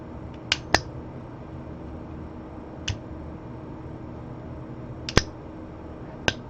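Small sharp clicks from an LP gas control actuator as it is energized, about six isolated snaps at irregular intervals over a quiet background hum.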